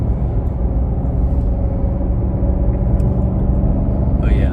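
Inside a 2022 Cadillac CT5-V Blackwing with a manual transmission, a deep, steady engine rumble drones loudly and evenly while the car drives, with no talk over it.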